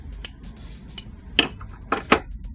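Pruning shears cut back branches on young sequoia trees, five sharp, distinct snips close by with irregular gaps between them and no voices.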